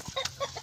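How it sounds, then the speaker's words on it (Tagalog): A chicken on a relative's farm plot in the Philippines gives a few short, close clucks in quick succession, with low background noise and no talking. "Ayan, manok. Mungaan. Ayan, chicken."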